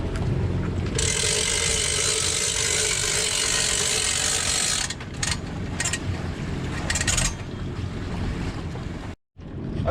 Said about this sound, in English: I will typically leave my engines running in forward at idle